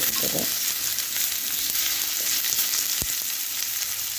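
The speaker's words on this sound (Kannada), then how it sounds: "ಎಣ್ಣೆಯಲ್ಲಿ ಫ್ರೈ ಮಾಡಿದರೆ ಸಾಕು" Garlic frying in oil for ghee rice, heard as a constant soft sizzle at low level with a few faint stirring knocks, close and with no voices.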